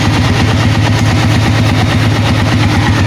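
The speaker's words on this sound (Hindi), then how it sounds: "सिलेंसर का भी बहुत प्यारा है, इंजन का साउंड भी बहुत प्यारा है" Honda CG 125 (2020 model, restored) idling with no throttle while parked, a steady loud low putter with a fast regular pulse, recorded close to the engine and silencer, no voices.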